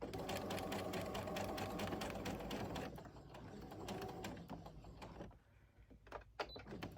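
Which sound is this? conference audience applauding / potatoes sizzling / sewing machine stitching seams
sewing machine stitching seams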